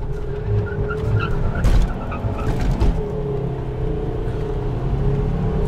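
A Ford Mondeo 2.5 Turbo with 220 hp races a Volkswagen Golf 1.4 Turbo, heard as a loud, rumbling engine roar from inside the car with brief bursts of louder noise around the launch.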